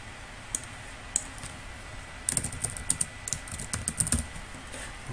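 Typing on a computer keyboard, a few isolated key taps at first and then a quick burst of clustered clicks, close and clear with no voices.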